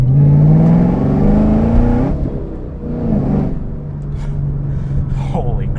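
A 2013 Camaro ZL1 with 130K miles accelerates hard on a street, its loud engine drone rising steadily in pitch, easing off, then building again, with someone speaking briefly over it.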